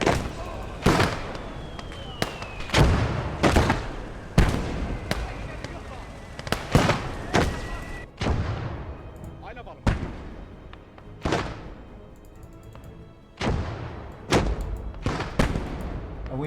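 Dense, loud bursts of gunfire and blasts fill a battle in the video game Blood Red Snow, with flamethrowers and a tank in play, striking in rapid, irregular volleys that echo with heavy low thumps throughout.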